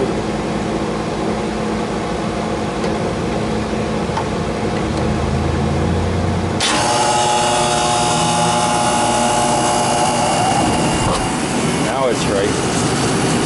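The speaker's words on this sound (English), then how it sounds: "Motor's having a hard time getting going." Condenser motor struggling to start, a low labored hum that suddenly jumps into a louder, harsh whirring drone partway through, with rattling and fluctuating tones afterward.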